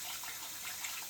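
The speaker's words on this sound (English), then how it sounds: "I'm going to put this into my bowl here, and I'm going to rinse it off real good." Tap water runs steadily into a bowl while salad greens are rinsed in a home kitchen, a continuous soft hiss and splash at close range with no talking.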